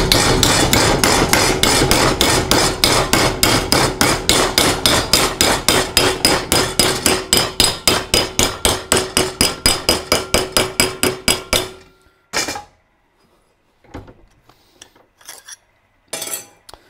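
A boat windshield frame is hammered to bend it over, a rapid, steady series of loud metallic blows close by that stops abruptly, followed by a few scattered clanks.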